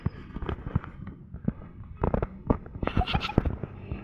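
A video game explosion booms amid a string of sharp popping blasts and thuds, uneven and clustered, growing busier toward the end.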